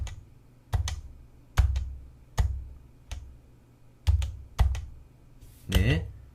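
Computer keyboard keys J, K and L pressed one at a time, crisp clicks spaced at irregular intervals in a quiet room, with a brief faint voice near the end.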